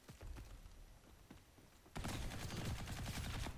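Turret gunfire from the Ghost in the Shell: Stand Alone Complex First Assault Online game. Softer thumps give way to a sudden loud, sustained burst of rapid shots in the last half.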